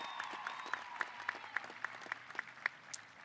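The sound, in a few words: applause at a graduation ceremony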